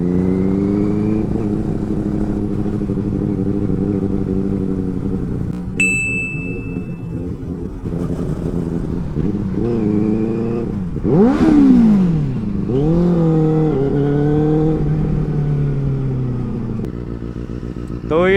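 A Benelli 600i superbike revs hard and accelerates past, its engine note rising and falling through several loud throttle bursts, with brief ringing dings and clatter in between.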